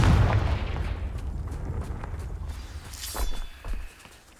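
A Confringo blasting spell goes off in Hogwarts Legacy with a loud, heavy boom. A rumbling, crackling tail follows, and debris-like clatter and a second burst come near the end.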